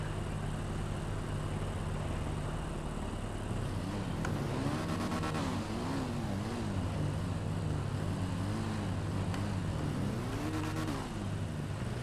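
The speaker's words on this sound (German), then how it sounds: "ich bin hier erstmal wieder mit meinem schönen neongelb-schwarzen Bike unterwegs" A neon yellow and black motorcycle being ridden, its engine a steady, close drone with rising and falling revs throughout, no voices.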